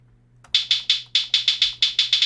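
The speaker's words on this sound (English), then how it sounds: "play the example of a low hat" A low hat, a hi-hat pitched down an octave, plays a rhythmic pattern of about a dozen short, bright hits with quick decays after a brief quiet start, isolated and fairly loud.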